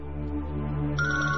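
A phone rings with a short electronic tone, a sustained musical trill that rises in pitch partway through.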